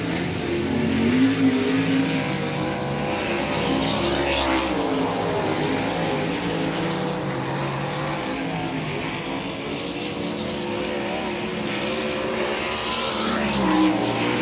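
USAC sprint car engine at speed on a qualifying run at Volusia Speedway Park, a loud continuous high-revving roar that rises and falls as the car laps the dirt oval, with no talk.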